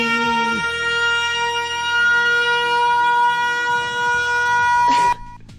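A loud, sustained electronic siren-like tone plays on a livestream as a hype sound, holding a steady pitch for several seconds before cutting off abruptly with a brief burst of noise.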